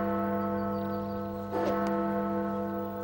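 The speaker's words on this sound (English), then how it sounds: "Is that the town clock? Since when does it have a bell?" Town clock bell striking at noon in a cartoon, a sustained bright ringing tone with a fresh stroke partway through, steady and fairly loud with no talk over it.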